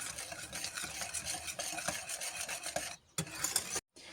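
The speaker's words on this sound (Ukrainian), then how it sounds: "Вливаємо і теж перемішуємо." Milk being stirred into wafer roll batter in a bowl, a steady close scraping and swishing whisk rhythm that runs continuously and fairly quietly, then briefly cuts out near the end.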